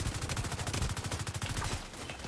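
Rapid automatic gunfire in a video game, a close, loud, rhythmic stream of shots lasting about two seconds before cutting off.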